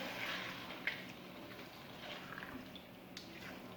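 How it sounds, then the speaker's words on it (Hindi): Half a cup of water pours steadily into a pan of egg biryani with a soft, continuous splashing hiss, a couple of faint drips standing out, close by and without talk. "अब मैं इसमें ऐड कर रही हूँ हाफ कप पानी"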